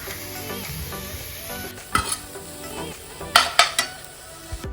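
Green chili, turmeric and soy sizzle and crackle steadily in hot oil, with a few louder spoon stirs and scrapes against the pan near the end.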